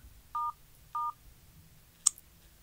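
Two short telephone keypad tones beep in sequence as 911 is dialed, followed by a brief higher click, with a quiet background hum.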